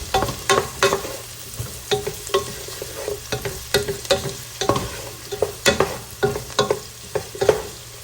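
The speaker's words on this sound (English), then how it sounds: "I'm gonna go ahead and add in garlic. I'm gonna give that a stir." Garlic stirred in a frying pan gives a steady sizzle with repeated sharp scraping and clinking strokes in an uneven rhythm, close and clear with no one talking.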